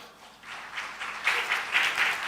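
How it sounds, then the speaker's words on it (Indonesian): Church congregation applauding during a New Year Sunday service, clapping building from quiet to a fuller, steady patter of many hands at moderate distance. "kita beri tepuk tangan dulu."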